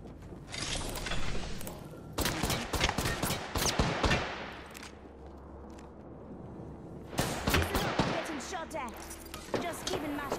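Gunfire in the video game Apex Legends comes in rapid bursts of loud shots, with a quieter pause in the middle before another volley, while players talk over the action.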